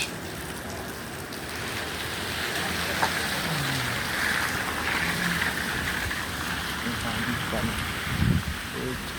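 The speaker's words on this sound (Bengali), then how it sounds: "এই হচ্ছে বৃষ্টি" Heavy rain falls steadily in Saudi Arabia, a dense continuous hiss of drops on hard surfaces, with a closer patter and a brief louder splash near the end and no voices.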